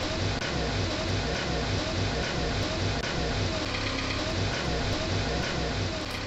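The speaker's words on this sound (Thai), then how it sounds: "เร่งเครื่องดูดิ" An old used excavator engine from a garbage dump revs in Farming Simulator 19, producing a loud, continuous mechanical drone that holds steady for several seconds with no talking over it.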